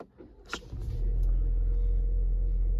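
A 2022 Ford Bronco Sport with the 2.0 four-cylinder engine settles into a steady, low idle rumble heard from inside the cabin, after a few brief clicks and shuffles at the start.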